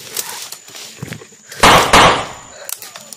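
Firecrackers set off in a Filipino drama scene, with two loud close bursts in quick succession around the middle, surrounded by fainter pops and background noise.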